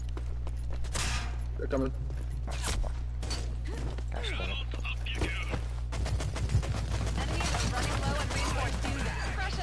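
Gunfire bursts in the Rogue Company shooter game, rattling through dense game noise and music while a player talks over the action.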